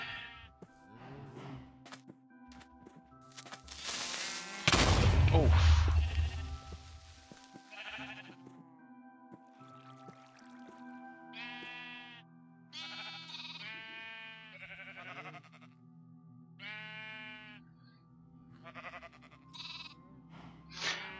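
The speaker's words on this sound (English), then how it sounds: "we have a magenta sheep." A magenta sheep in a survival video game bleats repeatedly, nasal wavering calls coming in short clusters with pauses, one louder rustling burst partway through, and quiet stretches between.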